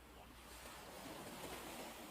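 Ocean waves on a beach make a soft, continuous, rushing wash of surf, quiet and distant and rising slightly, with no voices.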